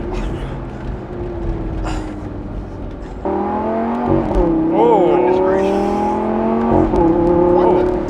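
A Lamborghini Gallardo Performante in Corsa track mode runs over a bumpy stretch of road, its engine droning steadily, then rising in pitch through revs and shifts, close and loud, with a voice talking over it.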